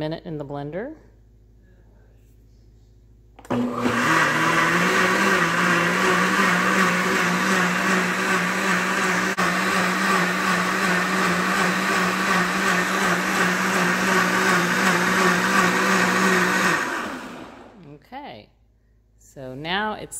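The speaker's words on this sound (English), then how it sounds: "Okay, another minute in the blender." A blender mixes an acerola cherry vitamin C mixture, a loud, steady whirring motor running for about fourteen seconds, with brief quiet stretches before and after.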